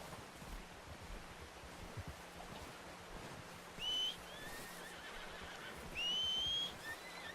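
A horse in Red Dead Redemption 2 whinnies twice, a short call near the middle and a longer one toward the end, over a steady outdoor wash of ambient noise.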